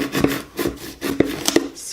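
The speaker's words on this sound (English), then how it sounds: "Squeegee that on there." A squeegee rubs a name decal onto a Dollar Tree tumbler in short, brisk scraping strokes, several quick rasping passes heard up close.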